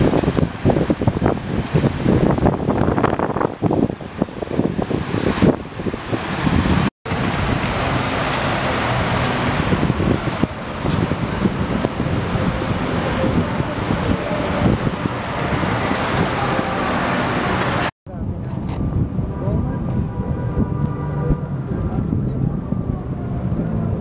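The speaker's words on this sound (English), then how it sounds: "Here's a beautiful water fountain display." A continuous broad splashing rush from a water fountain in New York City, loud and close, blends with outdoor city noise and wind buffeting, cutting off abruptly twice.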